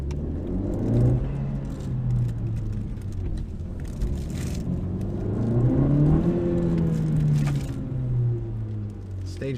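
A 2017 Honda Civic EX-T with a 1.5T engine and Ktuner V2 stage 2 tune revs from inside the cabin, its engine tone rising and falling in slow sweeps with some rev hang and a few light rattles.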